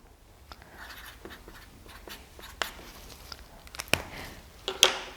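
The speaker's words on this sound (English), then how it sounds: "Write down the name of the sample." A pen scratches out a sample name on a Compact Dry micro kit: faint, quiet scribbling strokes close by, broken by a few sharper taps and clicks near the end.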